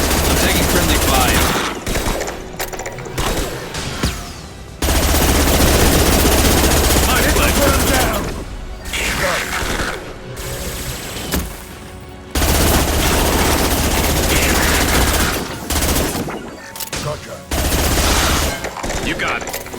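Rapid bursts of automatic gunfire in the video game Mass Effect Legendary Edition, with loud sustained volleys broken by brief pauses and heavy low thuds, with voices heard between the shots.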